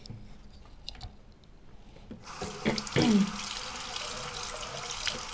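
Tap water runs into a sink for face rinsing after a peel-off glitter mask, starting quietly and then flowing steadily with splashing close by.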